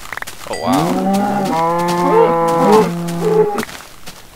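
Cows in Minecraft moo in drawn-out, wavering calls lasting a few seconds, loud and close, with a brief exclaimed word just before.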